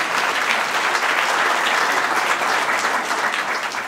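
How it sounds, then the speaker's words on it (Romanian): Steady, dense applause from an indoor audience at a Romanian parish Christmas carol concert in Imola, cheering on the parish carol singers; continuous clapping fills the hall throughout without letting up. "De aceea vă rog să-i aplaudați"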